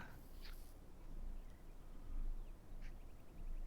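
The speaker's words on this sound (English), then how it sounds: "The chickens really aren't that bad." Chickens in the video game City of Heroes give brief, fairly faint clucking calls over steady game background noise, a few scattered bursts across a few seconds.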